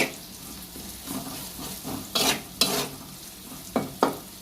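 Koi fish fries in a salted pan with potatoes on a low gas flame, giving a steady quiet sizzle broken by several sharp bursts of spitting oil and stirring.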